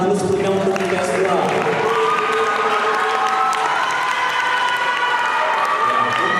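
A crowd claps steadily throughout at a high school debate final, with some cheering and overlapping voices, loud and sustained as if in a hall.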